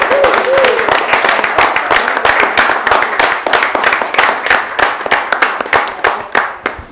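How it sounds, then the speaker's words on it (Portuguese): Audience applause for a female guest at a Brazilian tribute event, dense steady clapping from a room of people, sustained for several seconds with a brief voice early on. "queremos saudá-la com umas palmas para a senhora"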